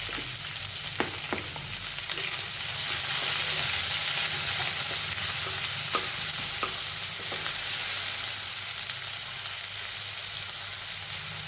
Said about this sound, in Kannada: ನಂತರ ಈರುಳ್ಳಿ ಹಾಕ್ಕೊಂಡು ಆಮೇಲೆ ಶುಂಠಿ ಹಾಕೊಳ್ತಿದ್ದೀನಿ.